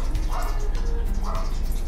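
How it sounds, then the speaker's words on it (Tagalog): An angry dog barks twice outdoors from a nearby house, two short mid-pitched yelps over steady background noise. "Ang galit na aso. Nagalit."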